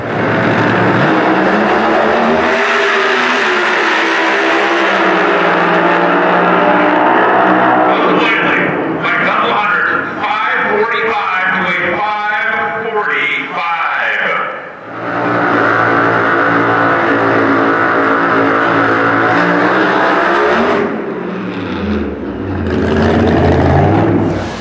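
Top Alcohol drag racing at the NHRA Nevada Nationals semifinals, a loud sustained engine roar with revving that dips briefly midway, then resumes powerfully and holds throughout.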